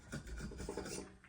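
Steady rasping strokes of a draw knife shaving wood, a repeated scraping rhythm up close with no talking.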